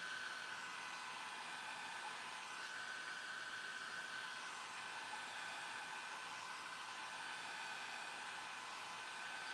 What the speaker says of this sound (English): I'm going to heat that corner and I'm going to pull it and try to close that gap.